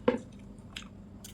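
Someone eats khichuri with soybean curry, making a few soft, wet, squishy chewing sounds close up, quiet and brief.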